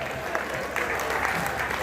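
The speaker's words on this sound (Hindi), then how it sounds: "ये सारे लोग मिलकर ताली बजाओ" A crowd at a Hindi poetry recital breaks into brief, dense clapping that swells slightly midway, with a voice heard faintly beneath it.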